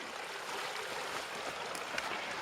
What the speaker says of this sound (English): this is a nice little stream